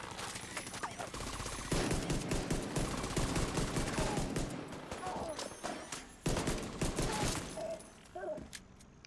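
Rapid pistol fire from a looter-shooter technician build in a heroic-difficulty co-op mission, sharp repeated shots rattling close in dense bursts, with someone talking over much of it.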